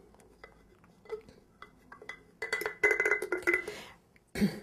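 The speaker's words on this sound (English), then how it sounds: "you continue pounding it down so that it won't move once it's all done" A scoop pounding down oatmeal chocolate chip cookie mix in a jar, with scattered soft taps and then a dense run of rapid clattering, clinking knocks against glass, close and moderately loud, ending with one more thud.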